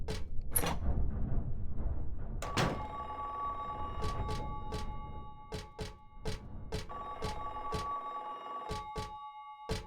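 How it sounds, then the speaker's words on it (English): A telephone rings in the video game Silent Hill 3: a series of sharp, repeated bell rings with sustained tones in between, set against low ambient game sounds and occasional thunks. "I think that's a phone call."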